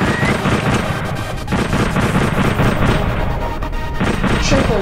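Gunfire in the video game Beat Ball 2, a dense, loud, continuous barrage of rapid shots and crashing bursts with no letup.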